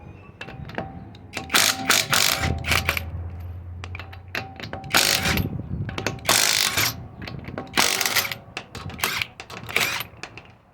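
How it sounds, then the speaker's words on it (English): Lug nuts come off a Honda Civic EK wheel with a ratchet, repeated bursts of clicking ratcheting and metallic clinks, close and loud, with pauses between. "you're going to take off your lug nuts"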